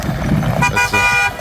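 A work truck's horn honks twice in short toots over a running engine, loud and close.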